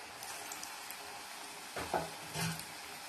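Bonda dough balls dropped into hot oil over medium flame, a soft steady sizzle with two brief louder bursts of bubbling as the balls go in, close and alone without talk.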